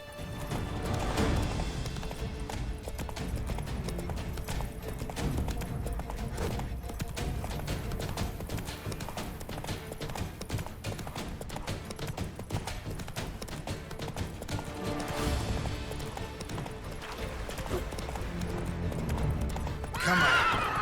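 A horse gallops with steady rapid hoof clip-clops in The Witcher 3, breaking into loud neighs and whinnies near the start, middle and end over continuous game ambience.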